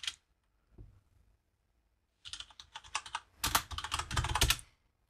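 A computer keyboard types a short terminal command, with a lone click, a faint tap, then a quick close burst of crisp keystrokes lasting about two and a half seconds, no speech.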